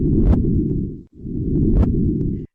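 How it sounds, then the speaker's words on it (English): A sonification of gravitational waves from a neutron star merger: a low, rumbling whoosh in two long surges with a short gap between, with a soft chirp-like rise in each, like a heavy pulsing hum. "And this is the sound of neutron star fusion."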